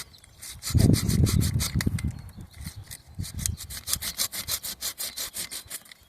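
A hand saw cuts through a peach tree branch during pruning, a close series of rapid rhythmic rasping strokes, heavier at first and then lighter and quicker until the cut finishes.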